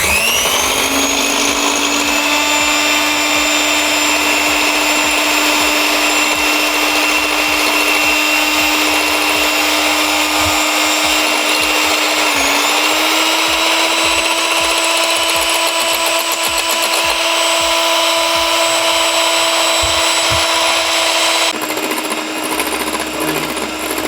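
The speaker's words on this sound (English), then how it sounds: "I've got my egg whites, which I'm now going to beat up into very light or soft peaks" An electric mixer whips egg whites to soft peaks, a loud, close, steady motor whine with a rhythmic beater clatter against the bowl, shifting pitch slightly before a change near the end.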